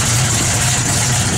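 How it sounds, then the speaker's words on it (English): 1966 Chevrolet Chevelle SS V8 with an aggressive cam idling close by, a loud, steady low rumble with no speech. "good sounding cam in it."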